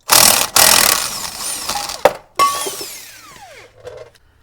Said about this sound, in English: This is a 17mm socket that I am using here.